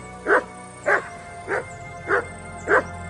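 A dog gives five evenly spaced, mid-pitched barks, loud and close, over a quiet humming background.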